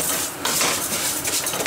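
Scraping and clinking of a utensil against a pan, with arborio rice shifting in olive oil over high heat in steady, close stirring motions.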